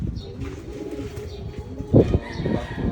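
Racing pigeons coo with low, throaty rolling calls, steady and near, swelling louder toward the end of the short stretch.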